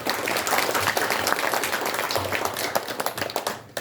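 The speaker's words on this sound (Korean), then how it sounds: "청장님께 뜨거운 박수 부탁드립니다" Audience applause for a commissioner at an independent-activist honours launch ceremony, a dense, steady round of many hands clapping throughout that drops off abruptly at the end.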